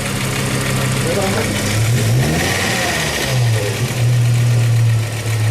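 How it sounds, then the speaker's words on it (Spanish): A car engine is revved during an RPM test with a diagnostic tester, rising in pitch twice from a steady idle. The roar is loud and close and fills the whole stretch. "Aceleramos el vehículo, el equipo detecta el incremento de RPMs"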